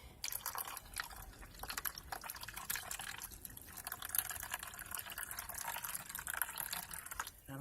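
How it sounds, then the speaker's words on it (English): Hot water poured into a container to melt ingredients for a homemade dog cough remedy: continuous, soft splashing and trickling, close but fairly quiet, with no talking. "Now, of course, I have to add the hot water so all of that can melt."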